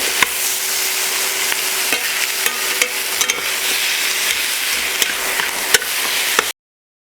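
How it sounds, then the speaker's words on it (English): Shrimp stir-fried with ginger and garlic for a Chinese garlic-sauce dish gives a steady, close sizzle, with sharp clicks and scrapes from stirring over it, and no one speaks. "And then we're just going to stir that in probably for about a minute."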